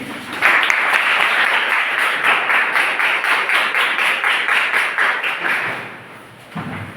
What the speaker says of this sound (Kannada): ಎಲ್ಲರೂ ಎದ್ದು ನಿಂತು ಚಪ್ಪಾಳೆ ತಟ್ಟಿ